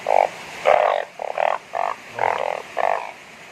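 Large frogs croak after rain in a series of loud, close, evenly spaced rasping calls, about seven bursts with short gaps between them, and no voices.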